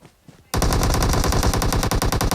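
Rapid automatic gunfire from other players fighting each other in PUBG Mobile bursts in after a brief quiet moment, a loud, dense, evenly spaced stream of shots that fills the rest of the clip.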